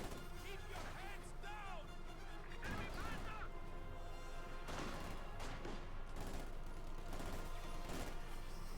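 Bursts of machine gun fire and scattered explosions from a Company of Heroes 2 match, rapid crackling volleys and thuds heard fairly faintly under an excited commentator's speech.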